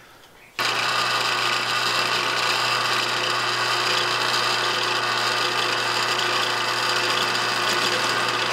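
A power tool starts abruptly and runs at a loud, steady whine, drilling holes through a jig for a solar roof rack build, continuing unbroken to the end.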